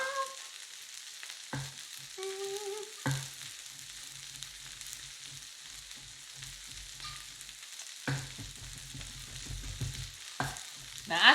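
Corn for elote dip warming in a pan gives a quiet, steady frying hiss, broken by several sharp clatters and scrapes of a utensil against the pan, close by.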